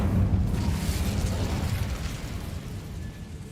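Incendio fire spell cast in Hogwarts Legacy: a sudden loud whooshing burst of flame that rumbles low and fades gradually over a few seconds.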